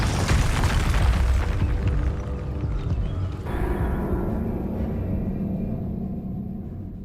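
Spell effects in the video game Hogwarts Legacy, including Glacius and Expelliarmus, land as loud, booming magical blasts and bursts that fade into a rumbling swell and then a high shimmering tail.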